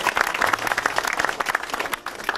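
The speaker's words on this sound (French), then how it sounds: "On l'applaudit encore." Brief burst of lively applause from a crowd at an inauguration, honouring a helper, with dense clapping that rises and falls over a couple of seconds before cutting off.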